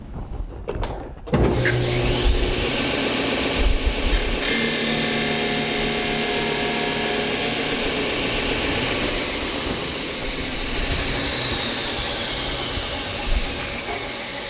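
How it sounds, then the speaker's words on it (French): A wood piece is pressed against a running sanding machine in a workshop. After a brief start the motor whirs steadily and loudly, with a continuous grinding hum throughout and no talking. "je vais accoter mon bout de bois pour aller la mettre sur la sableuse"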